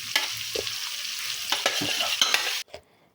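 Chopped garlic, green chilli and tomato go in with chicken frying in a pan, giving a close, steady sizzle broken by scraping stirs, then a sudden drop to near silence at the end.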